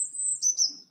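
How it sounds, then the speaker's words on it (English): Outdoors, a bird sings a clear, high chirping phrase of a few quick notes, close and bright against near silence. "that's just heaven, the sound of the birds, isn't it, right now?"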